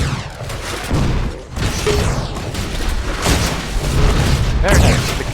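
Rapid gunshots in Unreal Tournament, a run of sharp booming shots and bursts spread across the fight, loud and close, with a commentator's voice running over them.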